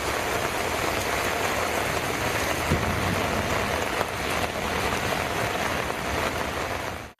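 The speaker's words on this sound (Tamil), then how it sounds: "இடியுடன் கூடிய கனமழை பெய்தது" Heavy rain in Tamil Nadu pours down in a dense, unbroken hiss that stays loud and even throughout, with no voices.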